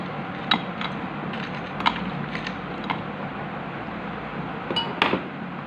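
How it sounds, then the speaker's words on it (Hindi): Ice cubes clinking and tapping as they drop into a strawberry milkshake before blending, a few sharp scattered clicks over a steady low background hum, no talking. "कुछ आइस डालेंगे"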